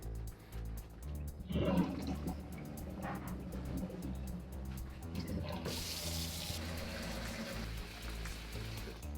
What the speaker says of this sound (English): We've got my sink completely filled up, or filled up enough for us to do the test.